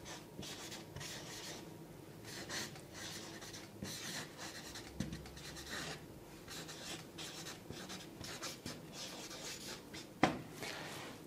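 A new pen scratches and rubs across paper in a quiet room, giving a continuous soft rasp of strokes close to the microphone, with one brief sharper tap near the end.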